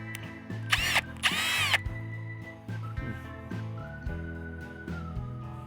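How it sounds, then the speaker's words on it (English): A power drill whirs in two short high-pitched bursts close by, drilling holes in metal plates, then quieter mechanical hums and clunks follow. "I think I'll drill the holes first, then paint them"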